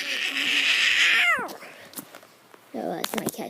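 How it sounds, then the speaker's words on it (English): A pet cat lets out a long, loud, drawn-out meow that bends downward at the end, followed by scattered thumps and a short burst of human speech nearby. "No, that's my cat."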